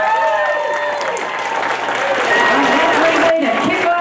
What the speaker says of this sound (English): Keep that applause going for Javian.